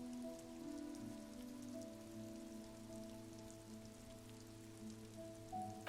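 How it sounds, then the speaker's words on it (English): Steady rain falls in sheets over seawater by stairs leading into the ocean in the video game Disco Elysium, a soft continuous patter under a low sustained musical drone, faint and unbroken without speech. "Sheets of rain over the water, a flight of stairs leading into the ocean."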